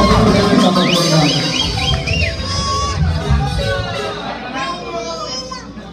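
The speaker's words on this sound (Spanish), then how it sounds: "¡Fuerte los aplausos!" A crowd at a marimba band performance cheers, whistles and shouts to welcome a singer, loud and close, with high whistles and excited children's voices that gradually fade.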